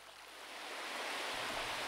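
Broad, steady rush of the Huk waterfall cascade in the Ukrainian Carpathians, 84 metres high in total, a continuous roaring hiss that swells slightly and holds without a break.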